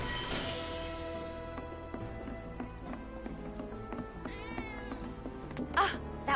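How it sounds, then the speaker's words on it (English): A cat meows in the Sector 7 slums of Final Fantasy 7 Remake, a short mewing call rising over game music and ambience, with faint footsteps and no speech. "Ah, that was definitely a cat."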